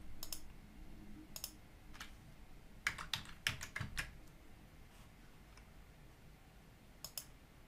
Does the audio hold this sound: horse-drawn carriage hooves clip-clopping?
no